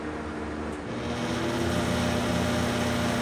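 A Lakewood box fan runs on high speed with a strange motor noise, a steady broadband whoosh of air over a persistent low electrical hum that grows slightly louder, with no talking.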